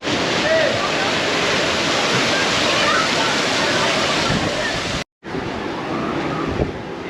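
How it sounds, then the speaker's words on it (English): Loud, steady splashing and rushing water fills a cruise ship's kids' water park, a broad continuous roar with occasional sloshes, briefly cutting out before resuming. "Let me get away from this water before I get splashed."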